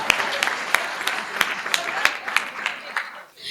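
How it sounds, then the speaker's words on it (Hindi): Applause from the audience at a Hindi kavi sammelan poetry gathering, scattered sharp claps over a crowd murmur, with a voice talking through it before the clapping fades out. "एक बार पूरा सदन जोरदार तालियां बजाकर उन्हें"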